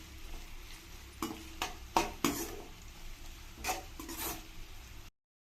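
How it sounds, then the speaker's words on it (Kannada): Onions fry in a pan with a steady low sizzle, broken by several sharp scraping stirs of a utensil against the pan, fairly quiet and close, with no talking. "ಆ ಥರ ಚೆನ್ನಾಗಿ ಇದನ್ನು ಫ್ರೈ ಮಾಡ್ಕೊಳ್ಳೋಣ."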